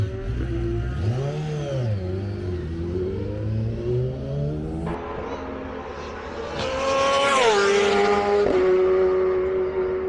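Honda race bike screaming around Cadwell Park circuit, engine note rising and falling through gear changes, then a louder, higher-pitched surge as it passes close with sharp revving.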